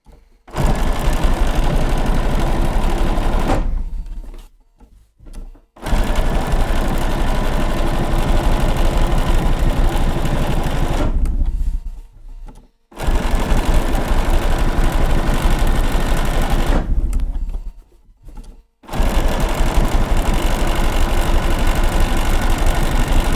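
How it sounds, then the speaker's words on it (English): Sewing machine top stitching the back of a fabric gift bag with a lengthened stitch, a loud steady whirring in three long runs separated by brief pauses. "So we're just top stitching on the back."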